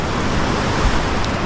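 Sea waves wash onto the shore at Lingayen Gulf beach in Pangasinan, a steady broadband surf roar with no clear break, heard alone for a brief moment.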